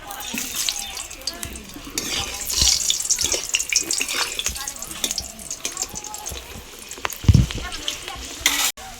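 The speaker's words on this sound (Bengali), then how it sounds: "তেল গরম হয়ে গেছে এবার আমি আলুগুলো ভেজে নেবো" Potatoes fry in hot oil in a wok over a lit stove, giving a steady close sizzle with bursts of spattering and occasional scraping clinks of a spatula throughout.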